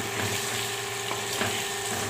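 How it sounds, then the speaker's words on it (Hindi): Wild melon (kachri) and potatoes are stirred in a hot pan, giving a steady close sizzle with faint scraping throughout and no voices. "साथ ही इसके अंदर हम डाल देंगे कचरी, मिक्स करेंगे इसको।"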